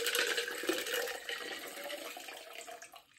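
Ice cold water pours steadily into a drink shaker, a continuous close splashing gush that gradually tapers off, with no talking.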